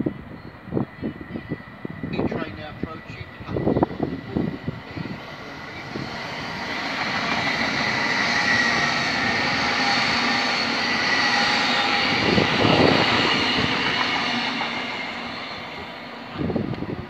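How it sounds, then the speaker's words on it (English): A Lumo Class 800 passenger train runs through Peterborough station, its engine and wheel roar swelling to a sustained loud pass before fading, with scattered clatter and thumps at the platform early on and no talk. "Lumo is coming."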